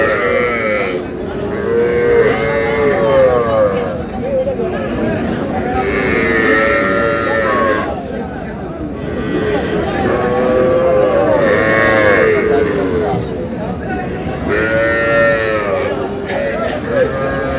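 Cattle at a Chandpur livestock market low in long, loud moos, one after another in close succession, with people talking and market chatter in the background.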